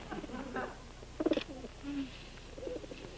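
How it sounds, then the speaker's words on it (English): Pigeons coo near a coop in a 1960s television comedy, a few soft, throaty coos and burbles that rise and fall against a quiet room background. "I let one of these pigeons go."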